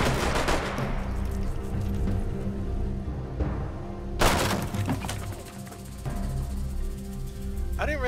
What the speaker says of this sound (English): Oh, they're using revolvers, watch out.